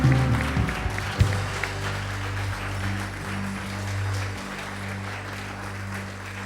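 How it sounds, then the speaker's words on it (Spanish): A church congregation claps together after prayer, a dense, even patter of hands with a few sharper claps early on, fading gradually over several seconds; faint voices murmur underneath. "Vamos a darle un aplauso."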